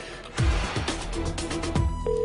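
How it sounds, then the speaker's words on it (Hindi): A telephone rings in a scene from a Hindi Bollywood comedy film, sounding in short repeated bursts over a busy, loud backdrop of other scene sounds. "फोन बज रहा है मैन।"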